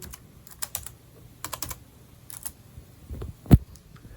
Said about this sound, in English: type in our password